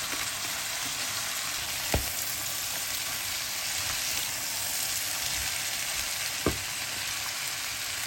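Chopped cabbage and two diced potatoes fry steadily in a pan, a constant soft sizzle with two sharp clicks of a utensil against the pan along the way; no talking.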